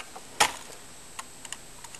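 Someone types an IP address on a computer keyboard: a handful of quiet, scattered key clicks, one sharper tap among them, in a hushed room.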